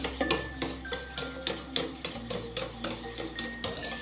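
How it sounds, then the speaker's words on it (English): A spoon stirs half a stick of melted butter into a peach cobbler mixture in a bowl, making steady, repeated clinks and scrapes against the side over a low background hum. "we're going to add a half a stick of melted butter. And we're just going to give that a good stir there"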